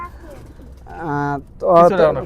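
A high-flying pigeon of Omani bloodline coos twice up close, two short throaty, warbling calls separated by a brief pause.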